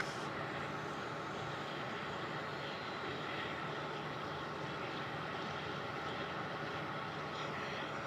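A passenger aircraft departing Melbourne Airport, a continuous broad engine roar holding steady and fairly distant for the whole stretch, with no voices.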